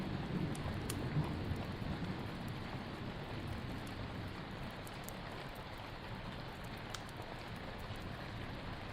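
Rain falls at night in a steady, even hiss of many drops, with faint scattered patters standing out from the continuous wash and nothing else intruding.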